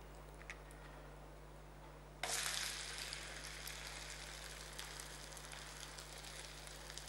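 Oil sizzling in a pan on the stove, a faint crackly hiss that jumps up suddenly and then holds steady and close, with no one talking.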